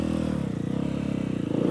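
A dirt bike engine idles and revs at the start of a trail ride, a close, loud, rapid pulsing putter with a brief rise in pitch near the end.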